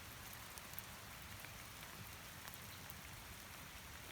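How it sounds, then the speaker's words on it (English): Steady, faint outdoor rainfall hisses evenly throughout, with scattered soft drop ticks and no voices. "I'm going to go in because I don't like the rain that much."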